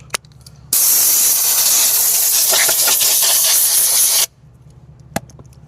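Dark hyper paint is sprayed onto a Cadillac Escalade V wheel in one continuous loud hissing burst of about three and a half seconds, with faint clicks before and after and no speech.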